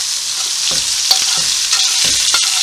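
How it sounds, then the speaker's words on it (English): A spatula scrapes and stirs venison mince around a hot frying pan over a constant loud sizzle, with scattered scraping strokes and no voices. "scrape it off the pan and"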